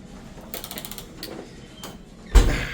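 An old-style door in a historic hotel room at the Brown Palace Hotel in Denver opens with a soft mechanical rattle of latch and hinge, a faint creak, then a louder thump as it swings, close by with no talking.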